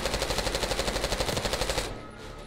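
Automatic gunfire in Call of Duty Black Ops 6: a rapid, evenly spaced burst of loud shots for about two seconds, then it cuts off into quieter background.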